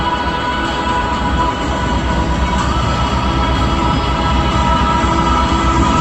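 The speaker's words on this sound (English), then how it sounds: "The Harrier takeoff technique that was just demonstrated" An AV-8B Harrier jet makes a vertical takeoff at an air show, producing a loud, steady, unbroken roar that holds evenly throughout.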